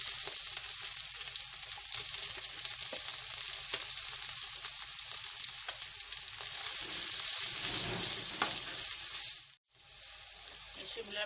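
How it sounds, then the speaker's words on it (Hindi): Carrots tossed into a pan of garlic and ginger and stir-fried, a steady close sizzle with scraping stirs and a brief drop in the sound near the end. "मैं सबसे पहले इसमें गाजर डालूंगी,"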